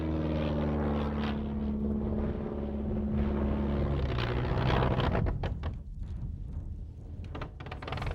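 Vintage light aircraft with a carburetted engine and no inverted fuel system, flying aerobatics at an international air rally at Wroughton, a loud droning engine that stutters and falters toward the end.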